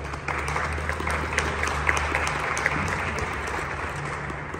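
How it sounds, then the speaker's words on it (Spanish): Moderate applause from a crowd at a football event in Zacatecas, steady clapping throughout with no voices over it. "Le regalamos un aplauso, por favor, a cada quien."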